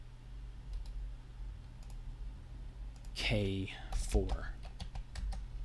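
Keys tapped on a computer keyboard while cell references are entered in a spreadsheet, scattered light clicks through the clip, with a short burst of speech in the middle over a steady low hum.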